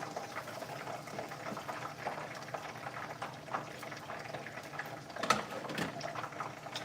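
Water boils steadily beneath sticky rice steaming in a pot while making Lao food, a continuous bubbling rumble close by with a brief louder gurgle near the end, no talking.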